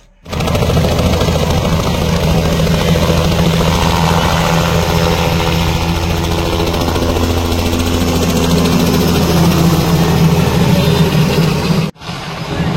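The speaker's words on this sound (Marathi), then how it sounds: "माऊली महाराज यांच्याही हस्ते हेलिकॉप्टरमधून बसून पुष्पवृष्टी करण्यात आली" A helicopter drones loudly and steadily overhead, the engine and rotor noise holding for about twelve seconds, during a celebration where flower petals are showered from the helicopter, before cutting off briefly at the end.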